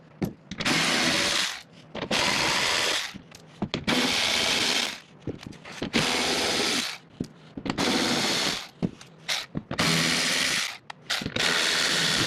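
Rapid ratcheting bursts from a hand ratchet backing out 10mm bolts from the rear sway bar of a Tesla Model 3 Performance, close and loud, repeated in several long runs separated by short pauses.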